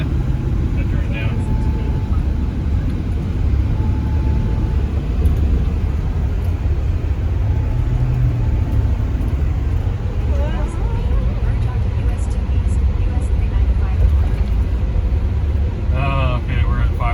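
Car moving through rush hour traffic, a steady loud engine and road rumble running throughout with other vehicles around and occasional brief higher tones.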